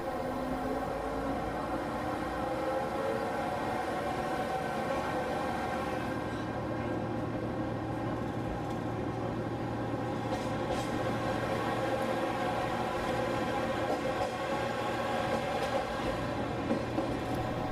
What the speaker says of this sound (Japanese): 発車時刻になり、列車が動き出しました。